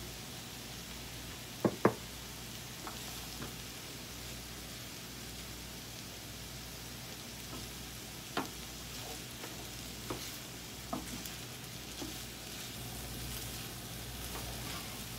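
Machaca with egg fries in oil in a pan, a soft steady sizzle underneath with occasional light knocks and scrapes of stirring, quiet and close.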